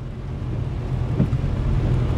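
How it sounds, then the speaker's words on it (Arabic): Heavy rain in a thunderstorm over Agadir makes a dense, continuous low roar with wind buffeting, loud and unbroken, and a faint rumble swelling near the middle. "أمطار غزيرة قوية ضربات أكادير اليوم"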